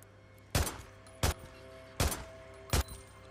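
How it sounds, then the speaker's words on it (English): Gunfire in the video game Days Gone, four sharp, loud single shots spaced roughly evenly apart, each with a brief tail, over a quiet hum. "Little bit of gunfire just to entice them."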